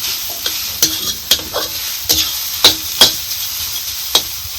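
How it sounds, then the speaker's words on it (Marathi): Raw mango and peanut chutney sautés in oil in a pan, a soft steady sizzle punctuated by a regular series of sharp scraping stirs from a spoon against the pan, close up with no talking. "आपल्याला तर ही चांगली परतून घ्यायची."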